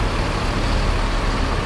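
Intercity bus running from Jakarta to Solo, a loud, close, steady engine and road roar with no voices over it.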